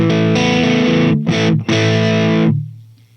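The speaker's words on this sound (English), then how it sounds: "maybe we can have like that amplifier overdriven sound like we had gotten from the Fender Deluxe by just using natural drive" Guitar amplifier pushed into natural overdrive, in the style of a Fender Deluxe, rings out in a few sustained distorted chords with a brief break and a fading tail, loud and without talk.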